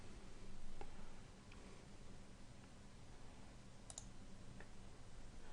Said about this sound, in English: I'm going to click add the domain.